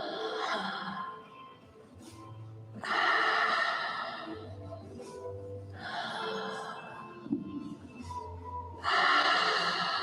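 Guided rhythmic breathing exercise: loud, forceful breaths alternate in bursts roughly every three seconds, each a harsh snorting exhale or inhale, with quieter low breathy stretches in between.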